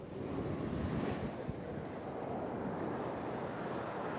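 Ocean surf washing steadily at Laguna Beach with gusting wind buffeting the microphone, a continuous loud roar with no voices.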